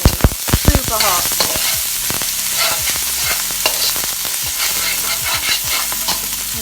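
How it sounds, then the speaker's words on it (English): White parts of spring onion and chilies are stir-fried in a very hot pan, with a loud continuous sizzle broken by sharp clatters and scrapes of a utensil against the pan. "and the spring onion, the white parts of the spring onion, and my chilies. Stir fry that really quickly, super hot."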